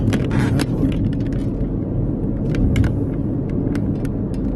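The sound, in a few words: car driving over big bumps on a rough road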